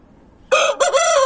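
An old rooster of a particular breed crows loudly and close by, a short burst of two clipped phrases right after a silent start, with no voices.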